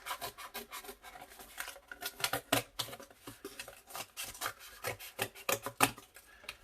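Scissors snip steadily through paper, cutting out a pear-shaped mask piece in a quick run of close, crisp cuts with no talking.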